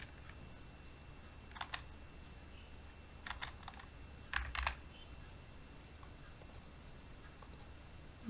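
A customer name is typed on a computer keyboard into a grocery shop's Java sales software. Quiet, close clusters of plastic key clicks come in short bursts separated by near-silent pauses.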